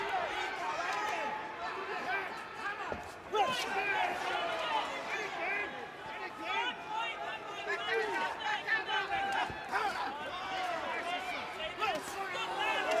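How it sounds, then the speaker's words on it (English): A crowd at a British and Commonwealth super-middleweight boxing fight in Birmingham buzzes and murmurs in a steady arena din, rising in swells, with excited voices and commentary-like talk over it. "A buzz from the Birmingham crowd."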